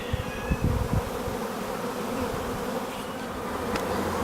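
Honeybee swarm moving into a nuc hive, a dense continuous buzzing drone of many bees close by, with a few louder passes near the start and no voices.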